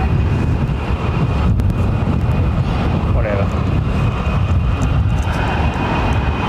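An Air Canada airliner at London Heathrow Airport gives a loud, steady engine roar mixed with heavy wind buffeting on the microphone throughout.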